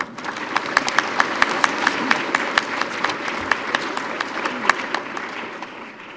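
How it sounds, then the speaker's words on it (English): An audience at a scholarship awards event applauds steadily, many hands clapping in a dense, even patter that fades slightly toward the end. "I think we should all thank you and clap for you"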